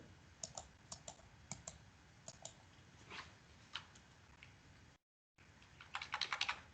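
Typing on a computer keyboard produces scattered, fairly faint key clicks in small clusters, with a short silent gap and then a quicker, denser burst of keystrokes at the end.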